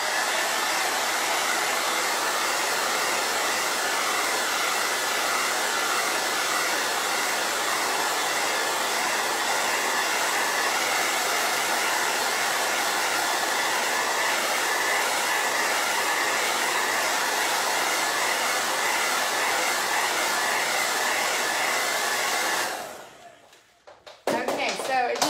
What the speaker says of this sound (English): Second with the blow dryer.